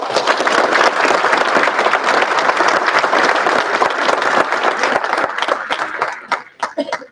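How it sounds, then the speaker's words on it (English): Sustained applause from a sizable audience at a university school awards ceremony, dense clapping that holds steady for several seconds before thinning to a few scattered claps at the end. "have a round of applause for all of our"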